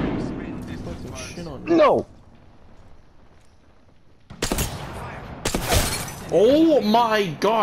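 Gunfire in the video game Apex Legends, sharp bursts of shots and impacts arriving in a few loud clusters separated by a quieter gap, with excited speech over the action.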